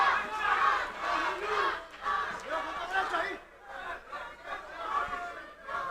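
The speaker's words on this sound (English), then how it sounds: "you hear the crowd yelling for Acosta" A boxing arena crowd yells and chants in waves for the fighter Acosta, loud surges of voices rising and falling throughout.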